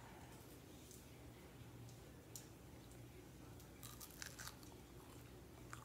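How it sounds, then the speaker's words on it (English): Crisp crunches of someone biting into air-fried French fries, faint and close, with a small cluster of sharp crunches near the end over a steady low background hum. "Can y'all hear the crunch?"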